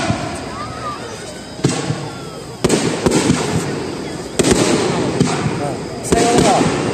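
Fireworks bursting at a fireworks festival: several loud booming explosions at irregular intervals, with crackling trails, over a steady wash of nearby crowd chatter.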